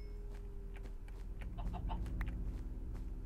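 Minecraft chickens cluck in a short run of soft calls over steady game background noise, moderately close and of even loudness.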